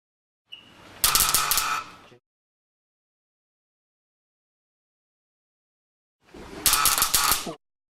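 Ruhmkorff induction coil fires two separate bursts of crackling, buzzing sparks, each lasting about a second and a half, with a long silent gap between them.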